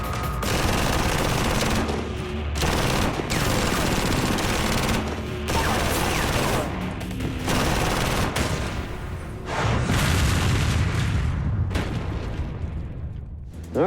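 Light machine gun firing repeated loud bursts at a range, sharp sustained volleys with brief gaps between strings of shots, close and dominant throughout.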